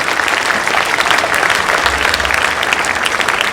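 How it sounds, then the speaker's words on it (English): Steady, dense applause from a school audience at a 2023 closing ceremony, loud and continuous throughout with no voices standing out. "So I want you to clap for Divraj also."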